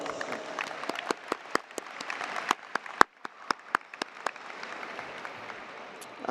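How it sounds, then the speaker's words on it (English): Scattered applause at a high school graduation ceremony: sparse, distinct hand claps ring out one after another over a soft room murmur, with a few sharper claps standing out. "Let's give Ms. Alcatin another round of applause"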